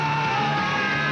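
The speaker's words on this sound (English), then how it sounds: "Now you can scream." A loud, sustained scream from a horror movie commercial for Tales from the Crypt Presents Demon Knight, rising and holding for about a second with bright overtones.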